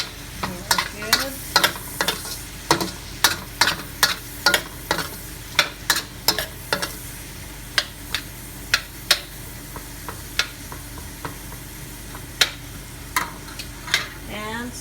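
Garlic stirred in a hot pan for string bean adobo with pork and Spam, a steady frying sizzle under sharp, repeated clinks and scrapes of a utensil against the pan, close and fairly loud.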